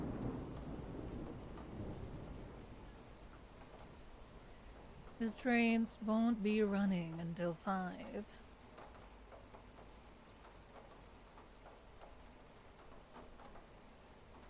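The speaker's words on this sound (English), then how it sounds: "it's already 2 a.m. and it's raining" Steady rain hisses softly in the background throughout, with a low rumble early on, while a voice speaks briefly in the middle.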